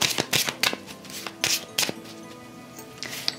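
Tarot cards are shuffled by hand, giving several quick riffling bursts with brief pauses between them, close and fairly quiet, with no talking.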